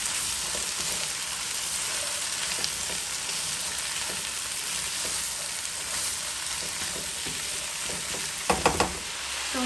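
Guyanese-style bora long beans fry in a pan, giving a constant bright sizzle while they are stirred, with a few soft utensil scrapes and a quick cluster of clacks near the end.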